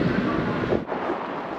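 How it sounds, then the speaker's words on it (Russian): Strong wind roars steadily against the microphone in the open air on the way to Divnogorsk by the Yenisei River in Siberia, a loud broadband rush that dips briefly and then comes straight back. "Сюда же приехал, ветрище."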